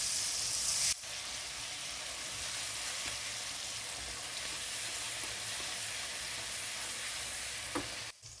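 Chopped green chillies and tomatoes fry in a pan for daal sultani, a steady close hissing sizzle that holds evenly throughout, with a brief clatter near the end.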